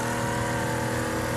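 A semi truck engine in the Wreckfest racing game drones steadily at a constant mid-pitched hum, continuous and fairly close, with no voices.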